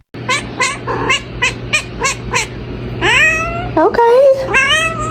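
A cat gives a run of short, close meows in a steady rhythm, then several longer, rising, whining meows.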